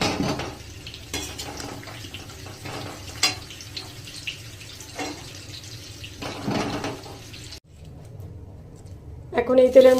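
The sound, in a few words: lifting fried papaya and potatoes out of the pan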